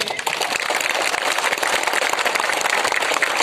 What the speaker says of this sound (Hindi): सब इनको भी एक बड़ा ताली दीजिए